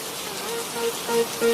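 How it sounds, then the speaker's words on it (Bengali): Steady rain hisses on a surface, with a few faint tones and a soft thump at the end. "বৃষ্টি"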